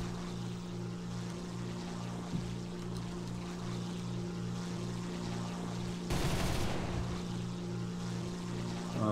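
Rockets fire at an anti-aircraft vehicle in War Thunder. A steady aircraft engine drone runs throughout, and a sudden loud broadband burst cuts through near the end.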